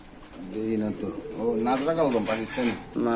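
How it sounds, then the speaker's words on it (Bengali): Pakistani Najra Kaldum pigeons coo in repeated low, throaty rolls nearby while someone talks over them. "পাকিস্তানি নাজরা কালদম কবুতর দেখেন মাসাল্লাহ কতটা সুন্দর"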